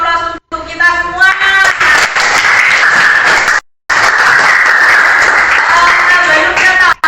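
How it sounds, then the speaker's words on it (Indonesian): Applause from participants at a teacher-training class session, with dense steady clapping that fills most of the clip, briefly interrupted, and brief talk at the start and end. "Oke, kasih aplaus untuk kita semua"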